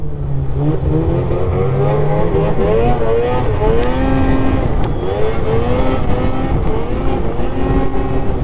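A loud 600 Catalyst snowmobile engine revs up and down repeatedly, its pitch sweeping higher and lower in quick bursts, close by with no talking.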